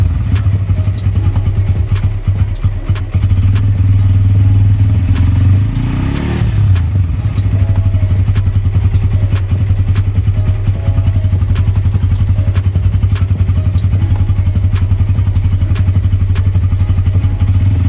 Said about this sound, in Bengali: তিনি আপন মনে একাকী বাইক